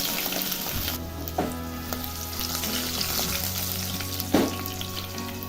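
Garlic and green chillies fry in hot oil, giving a continuous close sizzle with a steady low hum beneath, a sharper hiss flaring near the start and another burst of spitting later on.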